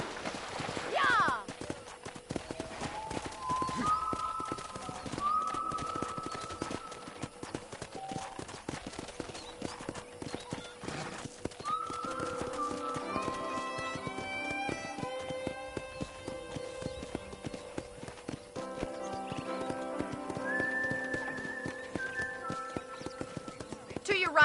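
Rhythmic hoof clip-clop of a galloping horse over a steady music track, with a horse whinny near the start, from the video game Red Dead Redemption.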